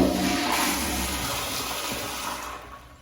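A toilet fitted with a Sloan Flushmate pressure canister flushes with a loud, steady rush of water that gradually fades over a few seconds.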